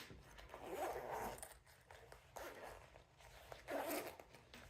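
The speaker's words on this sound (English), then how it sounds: "you can undo the zipper" A zipper on a handmade sewn phone wallet purse is slid open in several short scratchy pulls, faint and close with quiet pauses between strokes.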